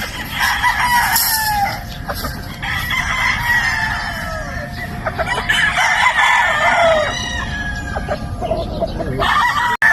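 A Sweater Boston gamefowl rooster on a game farm in Batangas, with several loud, close crows and clucking from nearby birds in between, and no talk.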